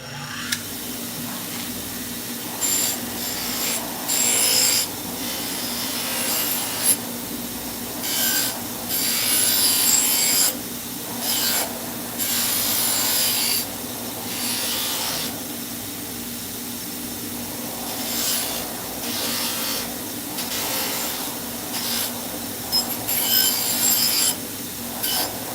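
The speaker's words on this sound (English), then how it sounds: "We're going to take it to the wire wheel, clean them up" A wire wheel cleans up steel knife blades in a knife-making shop, a steady rough rasping hum with repeated bursts as each blade is pressed against the spinning wheel, no speech.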